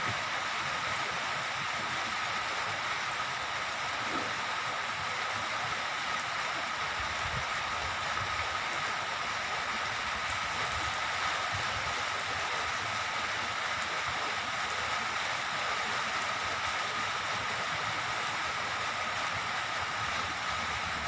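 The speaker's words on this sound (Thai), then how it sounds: "ฝนตกเช้าๆ ครับ" Steady morning rain falling outdoors, a constant broad hiss with no breaks, even and moderately loud throughout, with no voices over it.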